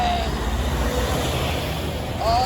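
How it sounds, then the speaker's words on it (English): Heavy trucks passing one after another on a road in Hudson, Massachusetts in the early morning, a steady loud rumble of traffic with rising and fading swells close by. "3 trucks in a row."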